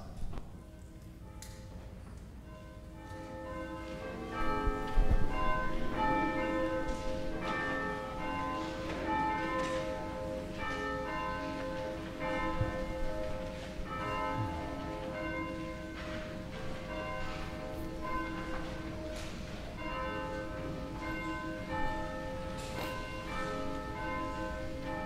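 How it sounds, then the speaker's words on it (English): Church bells ring at the start of a Sunday service, a continuous sequence of overlapping resonant strikes with lingering tones, moderately loud and steady for the whole stretch with no talking. "And we begin with the ring of the bells."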